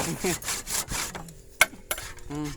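Hand saw cutting wood while repairing a wooden rice-field hut, heard as a few broadband rasping strokes in the first second, then quieter scraping with a sharp knock partway through.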